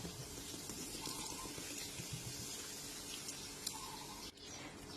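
Soda water poured over pork belly laid skin-side down in a tray, a steady fizzing, splashing pour running close and continuous throughout with no talk.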